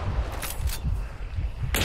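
Gunfire in the video game Hunt: Showdown: a few sharp, loud shots in quick bursts over a low rumbling game background, with no talking.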